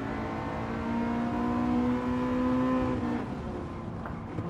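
Gran Turismo 7 race car engine revving steadily with a strong harmonic whine that holds and climbs slightly, then drops off around three seconds as another engine note rises, loud and close with no talking.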